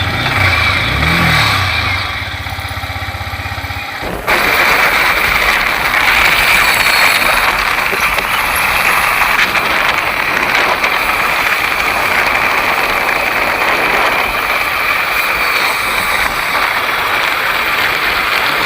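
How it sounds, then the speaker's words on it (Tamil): A Yamaha R15 motorcycle engine revs loudly and steadily up close, its rough roar sustained after a short burst of revving at the start. "நம்ம பைக் எடுத்துகிட்டு சைலண்ட்டாக கிளம்புனாலும் வைலண்ட்டாக சவுண்ட் இருக்கும்."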